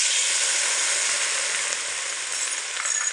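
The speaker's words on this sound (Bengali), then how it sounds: "হাফ বাটি মতো জল দিয়ে দিচ্ছি।" Loud, steady sizzling and hissing as a little water is poured onto potatoes frying in a hot pan, continuous throughout with no talking.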